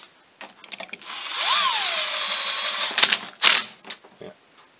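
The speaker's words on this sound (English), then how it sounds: "Right now I'm just snugging that up to tighten the case up." Rapid ratchet clicking from a ratchet snugging the engine case bolts on a Polaris 350/400 two-stroke Sportsman engine, preceded by a sustained whirring spin and followed by short bursts of clicks, loud and close.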